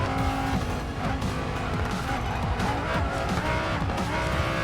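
A car in the mobile racing game Racing Master sweeps through corners, engine revving continuously at high pitch with tire squeal layered over it, loud and unbroken throughout with no voices.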